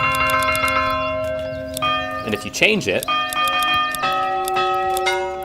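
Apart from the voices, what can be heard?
church bell ringing in video game Manor Lords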